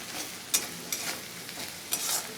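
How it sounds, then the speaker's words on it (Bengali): A paste of mustard, garlic, ginger and green chilli hits fried onions in a hot pan for a pabda fish curry, making a bright continuous sizzle with several quick spatula scrapes and taps. "এবার এই পেস্টটা আমি দিয়ে দেবো।"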